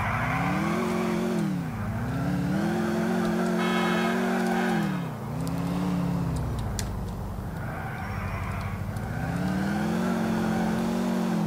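A synthetic car engine in Grand Theft Auto IV revs up repeatedly, pitch climbing and dropping as gears shift, loud and continuous like a racing game.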